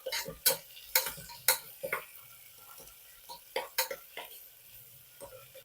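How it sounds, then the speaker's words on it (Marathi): Onion sautéing and being stirred in a pan for a sour-spicy amaranth-leaf dal: a run of sharp spoon-on-pan clicks and scrapes in an uneven rhythm over a faint background sizzle, close and fairly quiet. "कांदा आपल्याला छान परतून घ्यायचा आहे"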